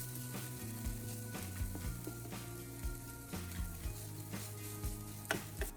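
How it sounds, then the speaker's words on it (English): Egg whites sizzle in a pan over low heat as a spatula breaks them into small soft pieces, with a steady close frying hiss, repeated scraping strokes and faint background music. "In the same pan, pour in the egg whites you set aside earlier and cook over low heat"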